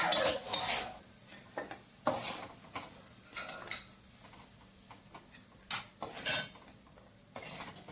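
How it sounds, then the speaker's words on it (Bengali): Fried potatoes are stirred in a pan with a utensil, giving a run of irregular metallic scrapes and clinks against the pan over a faint sizzle; the sound is close and fairly loud, with no voices. "এটাতে আলুটা একটু নেড়ে দেখে নিচ্ছি আমি।"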